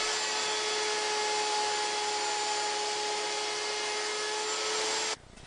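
A router fitted with a 1/4 inch round-over bit shapes the bottom edges of wooden apron rails for a child's table, giving a loud, steady high-pitched whine that holds for about five seconds and then cuts off abruptly.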